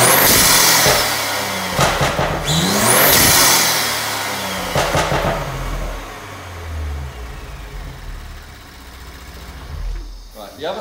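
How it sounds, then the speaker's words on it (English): An Audi S5 B9 engine with stage 2 tuning revs up and down several times with a throaty intake induction roar, heard near the front, then settles toward idle; a voice is briefly audible. "if you stand near the front, you can hear the induction noise"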